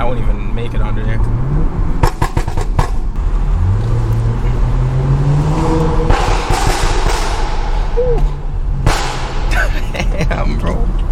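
A BMW engine rising in pitch as the car accelerates, heard from inside with a few sharp pops and thumps, while people talk over the engine noise.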